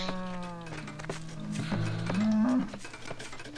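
Cows in the real-time strategy game Tzar moo over busy in-game sounds, with one drawn-out bovine call rising clearly above the other game effects.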